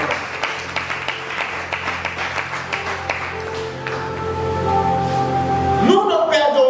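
Congregation applauding in a church during a sermon, a steady patter of hand claps that fades as a sustained organ-like tone rises near the end.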